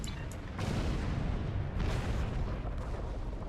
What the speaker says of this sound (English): Look at that explosions.